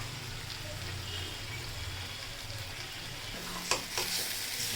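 Potatoes sautéing with chicken in a pan make a continuous close frying hiss with soft stirring scrapes, and a sharper clatter of the utensil near the end.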